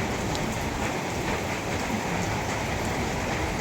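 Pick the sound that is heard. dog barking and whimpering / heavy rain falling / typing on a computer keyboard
heavy rain falling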